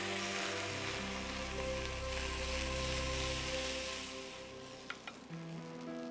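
Oiled batter sizzling in a hot appam pan: a steady, loud frying hiss that thins out near the end, with a faint clink or two, no voices.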